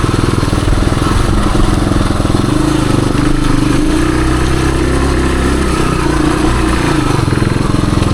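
A 1978 Suzuki DR370 motorcycle rides woodland trails, its engine a loud, close, steady thumping drone with slight shifts in throttle and no speech.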